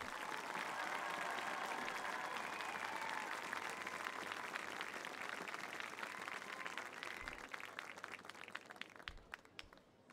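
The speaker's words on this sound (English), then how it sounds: "one more round of applause, please, for your 2017 homecoming court." A crowd in the stands applauds the 2017 homecoming court at the Midland High School homecoming football game, sustained distant clapping and cheering that slowly thins out toward the end.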